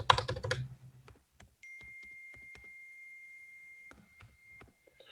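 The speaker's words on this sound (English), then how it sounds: "So where you can type anything that you want to write" Keyboard typing in a quiet room: a burst of rapid clicks up front, then scattered individual keystrokes over a steady faint electronic tone, close and fairly quiet.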